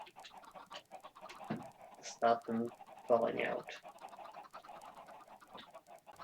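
Chickens penned in a Minecraft chicken farm cluck in a few short bursts, with a person talking over them.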